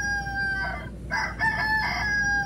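A button-activated toy rooster from a Walmart store crows a mechanical, electronic cock-a-doodle-doo, loud and close, in two or three tinny, tonal bursts.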